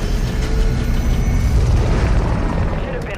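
Aircraft roar overhead in Warzone 2, a loud, sustained, broad rumble with booming low end that holds steady for a few seconds without any voices.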